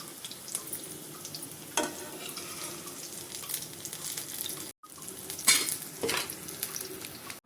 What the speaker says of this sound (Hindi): अब हम बॉल्स को निकाल लेंगे और बाकी का फ्राई कर लेंगे।